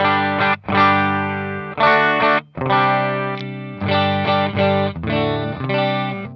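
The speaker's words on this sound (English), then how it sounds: "my favorite IRs, I mentioned this in another video, is the Michael Westbrook IR. It sounds like this by itself" A distorted electric guitar through a Line 6 Helix with a Michael Westbrook cabinet impulse response chugs through loud, saturated chords in short rhythmic bursts with brief gaps, thick and close.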